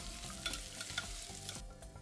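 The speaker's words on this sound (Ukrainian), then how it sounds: "Я цього разу обсмажуватиму по черзі. Спочатку цибулю, потім картоплю, потім моркву, потім вже гарбуз." Onion sizzling in a pot while being stirred, a quiet steady frying hiss broken by light scraping clicks of the spoon for a couple of seconds.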